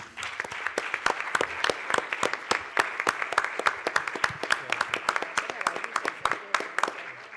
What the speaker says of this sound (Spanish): Y bueno, nada, muchas gracias. Un aplauso.